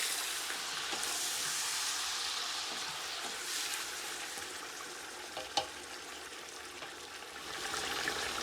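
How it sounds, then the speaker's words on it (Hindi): Chicken pieces for a karahi hit hot oil in a pan, producing a steady bright sizzle with crackling pops and a sharp spatter near the middle, close and continuous without speech. "ऑयल गरम हो गया है, अब हम इसमें डालेंगे चिकन।"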